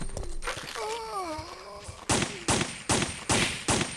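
Pistol gunfire in the Resident Evil 3 survival horror game, five sharp, evenly spaced shots ringing out one after another after a stretch of groaning zombie-like vocal sounds.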